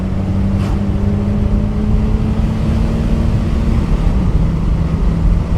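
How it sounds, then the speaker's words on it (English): A 1970 Mercedes-Benz 280 SE Cabriolet accelerates along a farm road, its engine giving a steady, close drone with a gradually shifting tone and no speech. "Let's get onto the farm road and let's accelerate."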